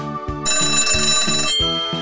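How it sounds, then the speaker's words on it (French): Recess bell from a Peppa Pig classroom toy playset rings in a loud, electronic melodic chime, repeating tones filling the room with no talking. "Tiens, la sonnerie de la récréation retentit enfin."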